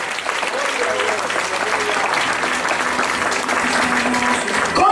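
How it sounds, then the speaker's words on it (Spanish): A church congregation claps steadily together at worship, a dense, even wash of applause sustained throughout with a few voices faintly beneath it. "Dele palmas al Señor, por favor."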